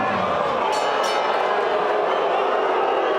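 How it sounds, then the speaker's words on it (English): An arena crowd at a boxing event reacts to a majority draw decision, a loud, steady roar of many voices and booing that fills the space without a break. "the crowd's definitely not happy with that decision"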